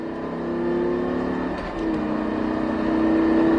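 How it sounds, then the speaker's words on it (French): A race car on the Circuit de Haut Saintonge accelerates hard with the throttle held flat, its engine a loud, steady rising drone and whine that dips briefly before surging on, close and continuous. "On accélère de plus en plus, de plus en plus. Ses pieds au plancher, c'est parti."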